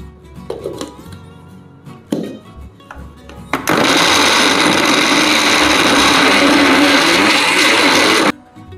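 A mixer grinder jar whirs loudly while blending flour and jaggery, a steady high-pitched motor roar running about five seconds and then cutting off sharply, after a few light knocks of ingredients going into the jar.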